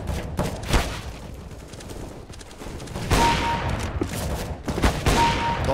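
Gunfire in Counter-Strike: Global Offensive: a burst of shots around the first second, then louder, denser volleys after three seconds, with short sharp cracks over a busy game background and no talk.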